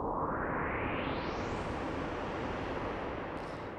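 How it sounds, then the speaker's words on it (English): A synthesized white noise riser climbs steadily in brightness and then eases back down, a broad rushing hiss played alone and fairly loud. "make these kind of like white noise rising and falling type sounds"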